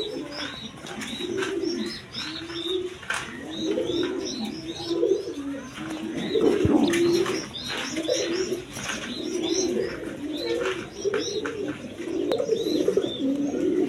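Pigeons coo in repeated soft, rolling phrases that overlap one another, close by, with faint chirps mixed in and no speech.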